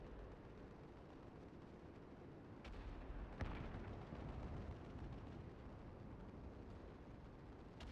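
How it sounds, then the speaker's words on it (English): Gunfire crackles in the background of a battle scene in the game Final Fantasy XIV, a dense rumbling barrage with a couple of sharper reports rising around the middle, no speech over it. "I just hear all the gunfire in the background"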